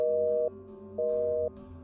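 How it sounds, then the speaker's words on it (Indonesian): A telephone busy tone after a disconnected call, two steady half-second beeps separated by equal silence, clear and close with no voices. "Sambungan telepon terputus."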